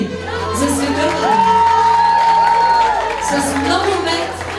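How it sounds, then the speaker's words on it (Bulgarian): Wedding guests cheer and whoop for the mother-in-law in a loud, sustained crowd roar. A held musical tone and voices run underneath, with the crowd swelling through the middle and easing toward the end. "Аплодисменти за свекървата!"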